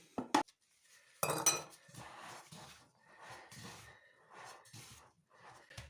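Flour worked into a sticky kefir dough in a bowl, with a couple of sharp utensil clinks, then a brief loud scrape followed by soft, rhythmic squelching and rubbing strokes close by.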